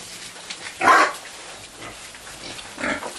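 Young piglets on a pig farm snuffle and squeal while feasting on grass, with one loud burst of squealing near the start and a softer one near the end over low farmyard background noise.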